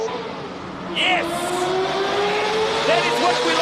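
Classic car climbing a hillclimb course at a speed classic event in Cape Town, engine note carrying steadily over crowd noise with a brief higher screech, and a voice talks over it.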